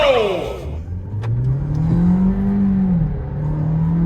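At a drag race launch, a VW Virtus GT and a Tata Nexon EV pull away hard. A close, loud engine note climbs steeply in pitch, then settles into a sustained drone.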